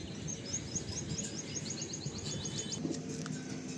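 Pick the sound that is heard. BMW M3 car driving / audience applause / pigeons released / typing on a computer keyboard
pigeons released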